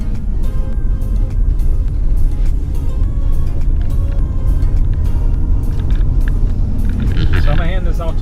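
Inside a car driving through Big Bend National Park, a loud, constant engine and road rumble fills the cabin while people talk over it.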